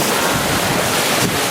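Following sea waves rushing past an 80-foot steel sailing ship on a downwind run in about 15 knots of breeze, heard as a loud, steady wash of water with heavy wind buffeting the microphone.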